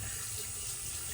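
Running tap water splashing over hands while shaving soap is rinsed off at a sink, a steady close hiss with no pauses.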